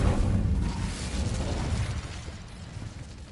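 A fiery blast from the Incendio spell in Hogwarts Legacy, a quick whooshing burst with low rumble that starts strong and fades over a few seconds.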